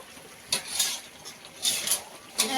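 A utensil stirs cardamom pods in a pot for biryani. A few soft scraping strokes rise over a faint background sizzle at a low, close level.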